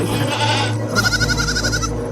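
A close, loud bleat rings out in a wavering, quavering call from a sheep, lasting about a second over background noise.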